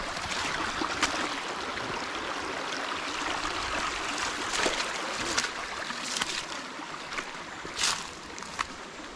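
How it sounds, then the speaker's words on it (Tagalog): A river flows and trickles steadily in a rural spot near Indang, Cavite, a close, broad watery rush with brief louder splashes now and then and no talk. "Ilog siya, oh."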